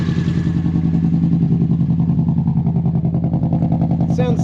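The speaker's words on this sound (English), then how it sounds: "Let me get some two-cylinder revs out of this." Car engine running rough on two cylinders, a loud, lumpy idle with an uneven pulsing beat throughout, a brief higher sound near the end.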